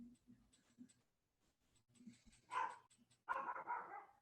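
A dog barks in short bursts indoors near a microphone, several loud yelps close together over a low murmur of a person talking.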